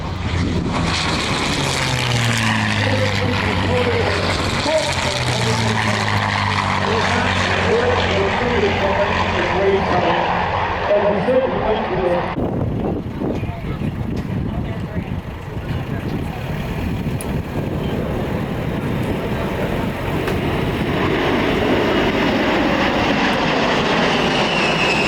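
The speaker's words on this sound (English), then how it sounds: "the racers are coming back out of Warren Beach" Propeller-driven racing planes roar past at the Oshkosh AirVenture 2025 airshow, a loud droning engine whose pitch sweeps down as it passes, followed by a rumbling, fading wash of engine noise, with a commentator's voice over the top.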